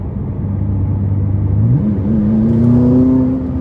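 A tuned 664-horsepower McLaren 570S in sport mode revs hard from the cabin, its engine note holding a low steady drone before climbing smoothly in pitch as it accelerates, loud and close.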